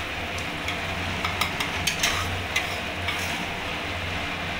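Steady sizzle of a mustard-poppy spice paste frying in a pan over low gas, with sugar added, as a utensil stirs it, sharp scraping clicks recurring under a continuous hiss, close and without speech.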